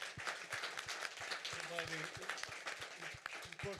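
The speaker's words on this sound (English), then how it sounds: "I would like to thank the speakers of the panel with a big applause" Audience applause for panel speakers at a science session on climate change, scattered clapping with distinct hand strikes, moderately faint and mixed with voices talking.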